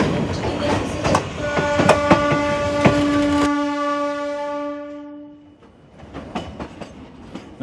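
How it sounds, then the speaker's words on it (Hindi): A train rumbles past with rhythmic clickety-clack of wheels, a loud sustained horn blast, then the noise fades as it moves away before more rail clatter returns. "दूर से आती इस रेलगाड़ी को देखिए, करीब आते आते शोर का सैलाब ले आती है, दूर जाते जाते सैलाब समेट ले जाती है।"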